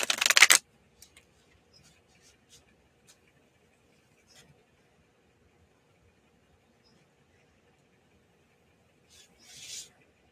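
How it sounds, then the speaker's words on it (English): Tarot cards given a quick shuffle: one short, loud, crisp riffle up close, long near-silence with faint small taps, then a softer rustle of cards at the end. "We'll give it a quick shuffle as well."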